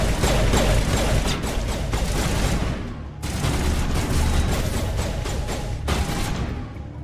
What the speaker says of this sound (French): Pourquoi même le barman me tire dessus quoi?